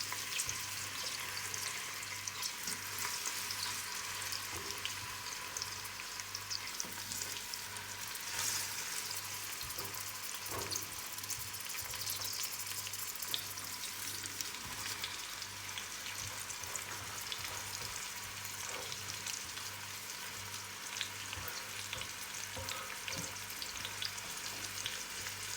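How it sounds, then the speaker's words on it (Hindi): Onions frying in hot oil for chicken biryani give a steady, continuous sizzle with a faint low hum underneath, sustained throughout and with no talking. "प्याज ऐड कर देते हैं, थोड़ा सा ऑयल गर्म हो चुका है।"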